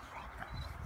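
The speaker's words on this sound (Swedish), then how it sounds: "Du kan inte vända arslet till och skälla, Alfred." A dog at an outdoor dog park in Täby gives a short, faint bark and whimpering yip, heard briefly and at a distance.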